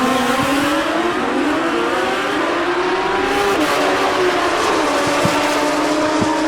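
Drag racing motorcycles, including a blue Kawasaki, scream at high revs, a loud continuous engine whine that shifts pitch through gear changes, with no talk over it.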